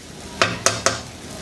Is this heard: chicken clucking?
no